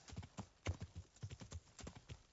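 Horse hooves clip-clopping in a video game, a quick steady run of soft hoof clops repeating closely together, fairly faint throughout.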